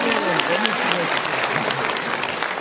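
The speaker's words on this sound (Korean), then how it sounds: "다시 한번 큰 박수 주세요." Big applause from a live audience at a Korean charity stage event, steady dense clapping throughout with crowd noise and a voice speaking over it.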